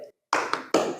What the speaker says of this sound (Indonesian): ada yang udah tahu tepuk semangat nggak?